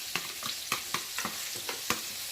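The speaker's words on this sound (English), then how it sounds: "Now that I add all my rice into the pot, I'm gonna stir it." Rice and peas are stirred in a pot with a spoon, giving a series of about eight distinct scraping strokes over a soft sizzle, close and fairly quiet, with no talking.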